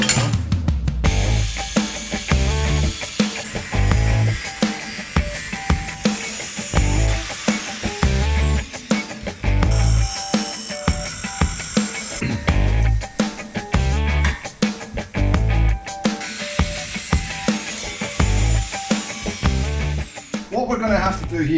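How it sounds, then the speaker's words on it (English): An angle grinder cuts through a BMW M240i exhaust pipe clamped in a vise, with a loud, close, steady whine broken by pauses and repeated bursts of rough, pulsing cutting. "then I'm going to use the grinder and cut it all off"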